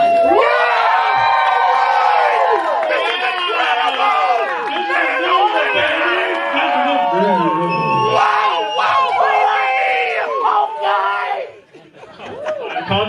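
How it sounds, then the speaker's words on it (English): A convention panel audience cheers and whoops together in a loud, crowded burst with scattered laughter and chatter, fading toward the end. "Guys, can we cheer really quick?"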